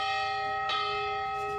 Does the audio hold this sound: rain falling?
no